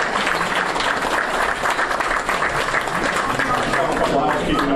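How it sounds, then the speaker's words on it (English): A crowd at a chamber of commerce after-hours business mixer applauds a band, steady dense clapping with some scattered voices mixed in. "Give a round of applause for the band."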